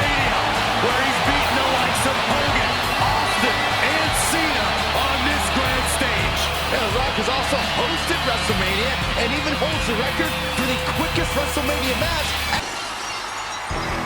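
A wrestling arena crowd in WWE 2K22 chants "Rocky" continuously during a tag team match, a loud, dense wall of cheering and chanting with bursts of impact noise and commentary talking over it.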